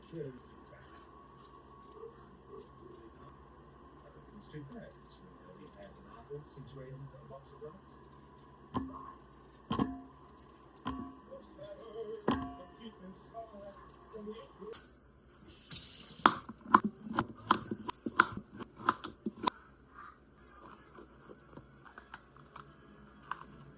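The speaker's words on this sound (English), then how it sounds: "Start chopping up my vegetables." Vegetables being chopped and peeled at home, a faint series of quiet knife taps and scrapes, sparse at first and then a quicker burst of close, sharp cuts near the end, with a low hum underneath and soft speech.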